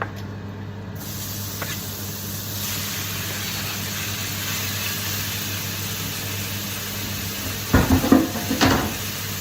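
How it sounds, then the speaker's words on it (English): Chicken pieces sizzle and hiss steadily in chorizo oil in a hot pan, a constant frying crackle near at hand, with a couple of brief louder clatters of utensils against the pan near the end. "So we're going to now cook our chicken."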